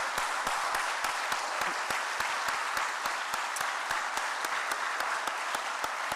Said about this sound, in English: Please join me in a round of applause to this university.